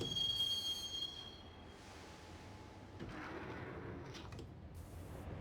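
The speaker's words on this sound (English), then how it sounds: "the train doors had already shut behind me, and I was in for the ride" A train in the video game Max Payne rides along its rails with a steady low rumble and clatter, a high squeal of wheels fading out early and faint metallic clanks later on.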